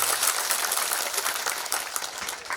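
A satsang audience in Garha Rampur, Madhepura, claps in a dense, continuous round of applause that stays steady and full for the whole stretch.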